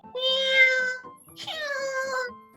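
A pet cat gives two drawn-out, whiny meows close by, one after another with a short gap, loud and clear with no talking.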